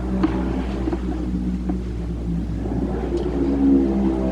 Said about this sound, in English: Wait until this motorcycle so they can hear you.